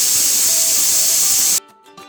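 Pressure cooker cooking biryani, sending out a loud, steady hiss of escaping steam with a faint whistle tone that cuts off sharply, leaving quiet kitchen sounds.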